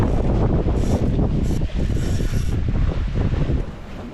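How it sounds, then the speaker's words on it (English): Sail being furled on a sailboat alone at sea on the Pacific, a steady rushing of line and pulley mechanism over constant wind noise, close and loud with no talk. "I'm gonna furl in the sail."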